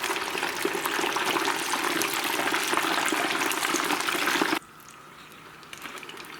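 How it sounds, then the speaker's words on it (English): Loud, dense rush of boiling water in a cooking pot with chicken wings, a steady broadband roar that suddenly drops to a quieter simmer near the end, no talk. "we're going to get some nice bubbling happening here"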